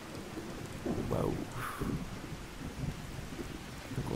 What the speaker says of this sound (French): Bon, en tout cas là il pleut.